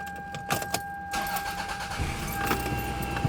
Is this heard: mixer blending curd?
no